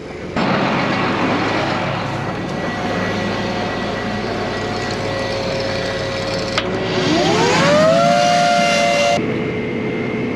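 A fan on a strip till bar is switched on over a steady machinery drone. A whine climbs in pitch as the fan spins up, holds loud for a moment, then cuts off abruptly.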